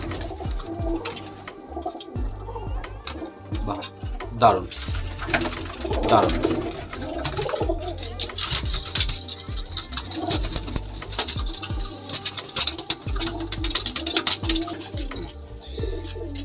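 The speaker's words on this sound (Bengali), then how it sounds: "এটা ভুই লোটন পায়রা" Lotan pigeons cooing in low, repeated throaty coos amid a busy pigeon loft, with a brief spoken exclamation partway through.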